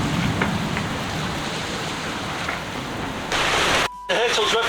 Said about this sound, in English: It looks like it's an actual storm.